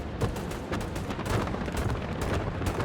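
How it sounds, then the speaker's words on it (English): Bombing run explosions in the World War II video game Hell Let Loose, a rapid chain of rumbling blasts and crackling detonations with no break, dense and fairly loud. "I've thrown a bombing run at them"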